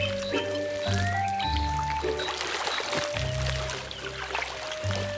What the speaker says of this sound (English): There are good reasons for boars to wallow in moist mud.